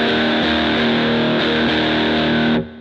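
Low strings on a distorted electric guitar ring out unmuted, a sustained, full, buzzing chord that sounds for over two seconds before being cut off.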